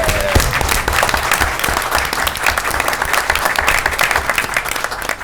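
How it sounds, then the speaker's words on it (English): A crowd at a common council meeting breaks into sustained applause, dense steady clapping that fills the room from start to finish. "So I give a round of applause right there."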